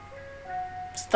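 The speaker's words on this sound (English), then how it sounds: "Is the ice cream truck?" An ice cream truck plays its chiming melody outside, a thin, steady tune heard at a moderate distance before a sudden loud noise at the end.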